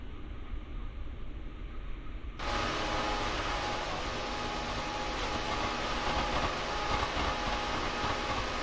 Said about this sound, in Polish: ciekawe, ile ten pociąg się rozpędzi